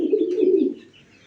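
A pigeon in a home loft coos in one close, soft, throaty phrase that fades out after about a second. There is no talk.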